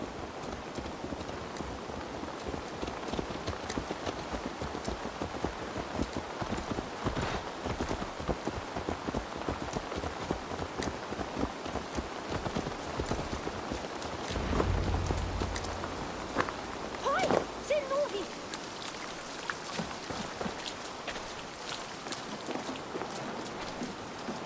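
Horse hooves clip-clopping in steady rain in Assassin's Creed Valhalla, the hoofbeats faint and partly masked by the constant patter of rain, with a brief low rumble midway.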